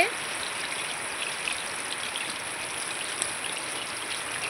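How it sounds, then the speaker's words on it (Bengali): Steady rain falls in a constant hiss, with occasional louder drips close by and no voices. "এত বৃষ্টি পড়ছে"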